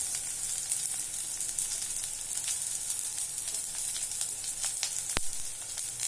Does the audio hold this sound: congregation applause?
no